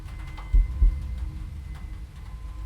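Muffled, low heartbeat thumps pulse softly over a faint steady hum, a few slow beats repeating with no other sounds on top.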